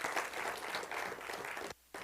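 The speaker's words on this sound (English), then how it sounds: "So give her a round of applause, guys." Audience applause at a live conference: dense, steady clapping from a crowd at moderate distance, briefly cut off near the end before resuming.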